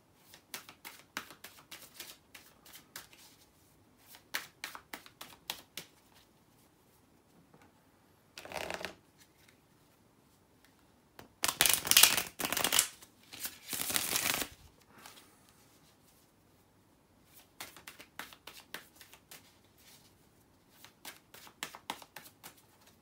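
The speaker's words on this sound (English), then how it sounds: "Let me again shuffle and see what you got" Tarot cards are shuffled in rapid riffling bursts, with quieter taps and shuffles between, close up and alone without talk.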